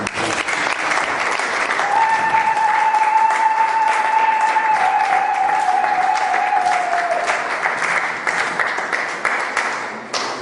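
A church congregation in Paris breaks into sustained applause and cheering, a dense wash of clapping with voices and a held sung or shouted tone riding over it for about eight seconds before fading.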